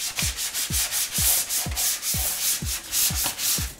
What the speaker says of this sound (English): You can score with sandpaper or some rough surface, pretty high grit to break through the old surface,